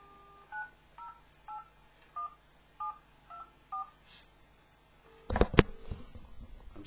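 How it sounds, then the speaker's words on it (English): A phone dials out to a private investigator, tapping seven short, evenly spaced keypad tones in a quiet room, followed by a brief burst of clatter and handset noise. "Just ringing my private investigator, Graeme Aylett."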